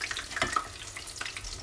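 Fish sizzles and crackles steadily in a pan while cooking for fish tacos, with soft scraping as it is moved and no one talking.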